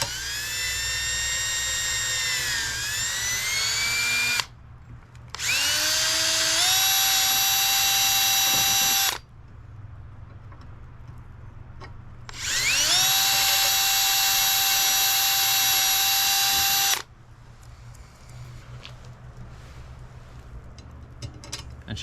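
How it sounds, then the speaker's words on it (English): Drill boring out holes in wiper arms for a second-generation Toyota 4Runner, with two long, loud, high-pitched whining bursts that rise in pitch as the drill spins up, separated by short pauses. "So I'm going to try and bore out the holes on the wiper arms with this"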